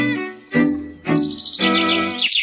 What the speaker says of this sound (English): I just love that bird.